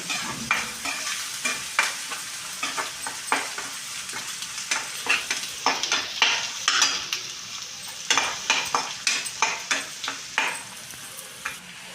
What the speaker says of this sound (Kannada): ಈ ಥರ ಚೆನ್ನಾಗಿ ತಯಾರಿಸ್ಕೊಂತ ಇದನ್ನು ಫ್ರೈ ಮಾಡ್ಕೋಬೇಕು